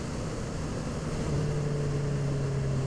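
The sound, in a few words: motorcycle engine while riding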